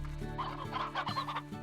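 A chicken in the farming game Slime Rancher clucks in a short run of several quick, fairly faint clucks, alone with no talking.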